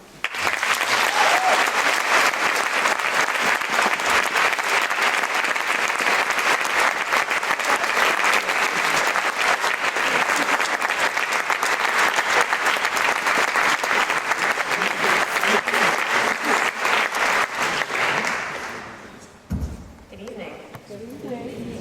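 Sustained, loud audience applause welcoming the keynote speaker at a women's network weekend event fills the room for nearly twenty seconds, then tapers off abruptly into a few scattered claps.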